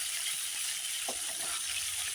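Pieces of katla fish fry in hot oil in a pan with a steady, hissing sizzle and a few faint pops and clinks, close by and with no talking.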